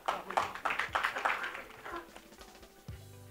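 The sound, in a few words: audience applause at a panel event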